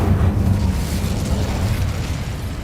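Incendio fire spell in Hogwarts Legacy erupts as a loud, rumbling burst of flame with low booming texture, sustained and close throughout.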